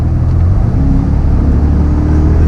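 A Porsche Panamera Turbo S fitted with a Racechip tune accelerates hard, a loud, sustained low engine roar with a rising tone running close and continuous throughout, no voices.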